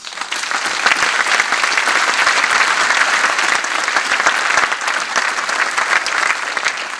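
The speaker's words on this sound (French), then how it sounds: "Marie-France, Dominique, on peut vous applaudir dès l'entrée" An audience applauds at the opening ceremony of the Angoulême francophone film festival, a dense, steady wash of clapping from many hands that holds evenly at full strength for several seconds with no voices.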